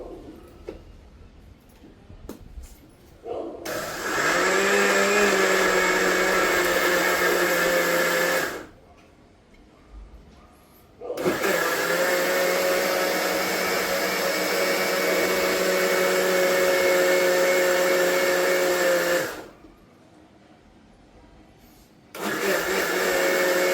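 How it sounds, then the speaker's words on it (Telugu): A kitchen mixer grinder whirs loudly as it grinds bun dosa batter, running in two long bursts with a brief pause between, then starting up again near the end. "చూడండి, మిక్సీ పట్టుకుందాం."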